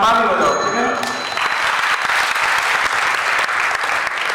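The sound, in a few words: audience clapping at a religious discourse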